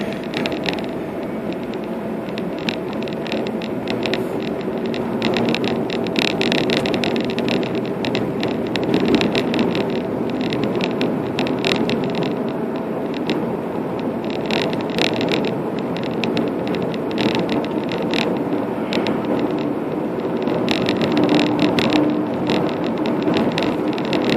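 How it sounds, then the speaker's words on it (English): A car drives over solid ice on winter roads in Wisconsin, with a continuous close rumble of tires and road noise, plus wind buffeting that holds steady throughout. "this is pretty much what it's like driving in Wisconsin. It's all solid ice. You're pretty much skating the whole time."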